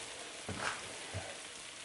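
Vegetables with balsamic vinegar sizzling in a pan for ratatouille, a faint steady hiss with a couple of soft bubbling pops, heard alone.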